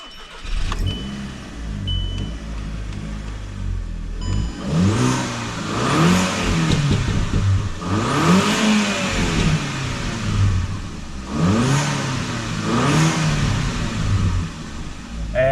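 A Volkswagen MK5 GTI engine running without an air filter revs repeatedly, loud rising and falling bursts of induction roar close by, with an idle between pulls.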